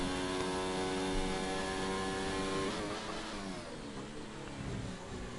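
Sustained race car engine from a racing video game on the Baku circuit, held steadily in third gear with no gear changes, a continuous loud buzzing whine that roughens and wavers slightly in the second half.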